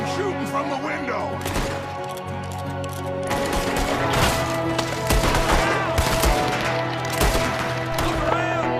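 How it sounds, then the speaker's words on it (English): Heavy gunfire erupts during an ambush in Red Dead Redemption 2, with repeated loud shots and rapid volleys, mixed with shouting voices and game music. "There's another one shooting from the window!"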